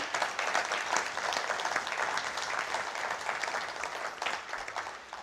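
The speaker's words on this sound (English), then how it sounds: "I want to hear and see a round of applause for the two heads of these two institutions." A steady, moderately distant round of applause from the audience fills an industry conference hall.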